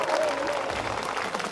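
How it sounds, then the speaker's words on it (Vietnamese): A studio audience on a Vietnamese game show applauds in a full, steady round of clapping that fills the whole short moment. "Một tràng pháo tay thật to nữa được không ạ?"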